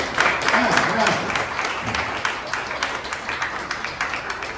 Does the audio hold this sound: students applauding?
yes